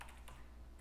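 Faint, crisp computer keyboard clicks, a few quick key presses, as Shift and Ctrl+G are pressed, close and quiet with no talk.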